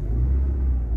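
A VW Golf 4 engine hesitates and stumbles as the throttle is opened, giving a brief, steady low rumble close by with no clear rise in pitch and no voices.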